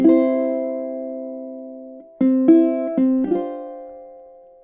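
A ukulele plays measures 15 and 16 of a song: a long ringing chord fades, then four quick plucked chords follow, each decaying cleanly, close and alone.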